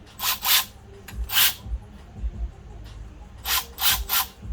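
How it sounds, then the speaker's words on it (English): Speed ratchet spinning bolts out of the rear brakes on a 2010 GMC Arcadia during a pad replacement: several short bursts of rapid clicking and rasping, fairly close, separated by quieter pauses with faint clanks. "Let's switch over to my speed ratchet."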